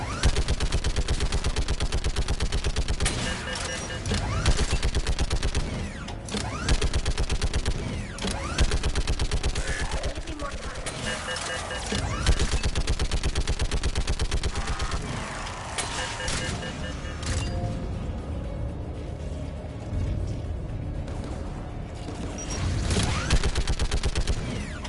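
Mounted turret gunfire in the Mass Effect video game, dense rapid bursts of shots repeating through most of the stretch with mechanical clanks between volleys, loud and continuous, with game voices mixed in at times.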